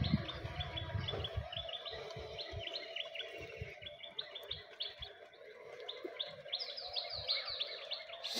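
Young pigeon chicks chirp in repeated high, thin peeps over a soft background, with occasional low fluttering or shuffling sounds nearby.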